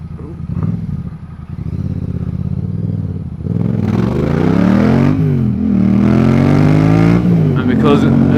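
Yamaha MT-07 motorcycle engine revving up and down in rising and falling sweeps, loud and close, starting from a rough idle before climbing into sustained high revs.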